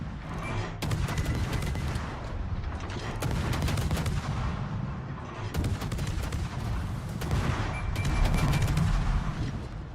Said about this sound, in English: Nice torpedo hit.